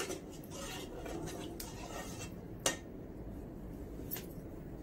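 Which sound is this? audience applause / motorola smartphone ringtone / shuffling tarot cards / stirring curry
stirring curry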